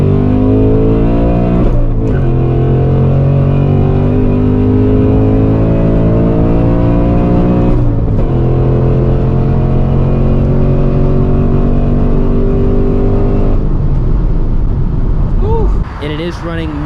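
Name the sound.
2024 Ford Mustang GT on E30 fuel blend accelerating hard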